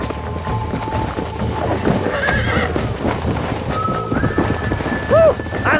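A horse in the Red Dead Redemption video game gallops with steady rapid hoofbeats throughout, close and loud, with a couple of high whinnies and a neigh near the end.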